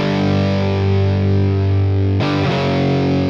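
Distorted electric guitar power chord, held loud and steady, then re-struck near the end with a short extra strum, played alone with no talking.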